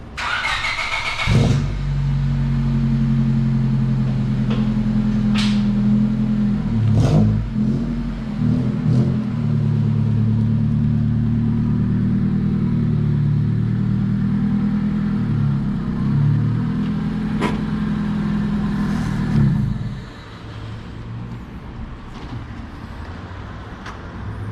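A Honda Civic's engine starts with a sharp catch, then idles in a loud, steady, close drone with a few small blips of revving before dropping off abruptly near the end.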